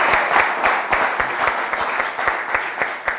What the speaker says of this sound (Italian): Applauso a Redi.